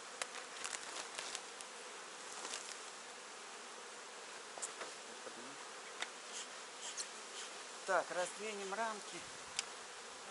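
Honey bees swarm and buzz around an opened hive as the frames are lifted during an autumn colony inspection. The hum holds steady and close, with sharp passes of single bees near the microphone and a brief spoken remark over it.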